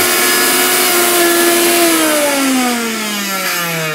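A Miyako electric blender running at speed setting one, a loud, close motor whine holding steady, then sliding downward in pitch as it slows, with no talking.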